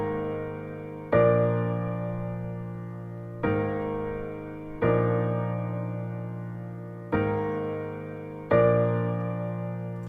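Chopped-up piano part with five sharp chord attacks at uneven intervals, each ringing out and slowly decaying before the next strike, played alone at moderate volume.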